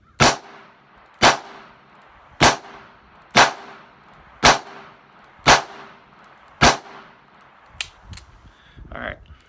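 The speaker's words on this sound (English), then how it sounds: "I'm shooting at a plate about 30 yards away," Double action revolver shots fired outdoors at a plate about 30 yards away: seven loud, sharp reports spaced roughly a second apart, each with a short ringing tail, then quieter handling noises and a brief voice at the end.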